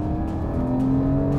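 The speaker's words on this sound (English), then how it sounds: "That is the sound of a naturally aspirated 4-litre flat six." A Porsche Cayman 718 GTS with a naturally aspirated 4-litre flat-six engine hums steadily at close range, a smooth sustained engine tone with no voices over it.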